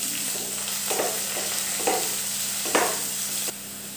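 Sliced onions sauté in hot oil for a hot and sour vegetable soup. A steady sizzle runs throughout, broken by several distinct spatula scrapes spaced roughly a second apart, and the frying quiets slightly at the end.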